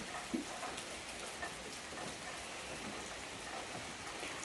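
Spring rain falls steadily on flower pots and earthenware crocks in a rural yard, a continuous soft hiss dotted with faint drips and taps, with no voices.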